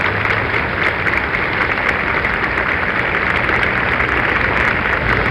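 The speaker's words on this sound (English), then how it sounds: "and you hear the applause" Crowd applause rises as President Nixon waves goodbye and departs, a thick, continuous hiss of many hands clapping at a steady loud level throughout, with no voices.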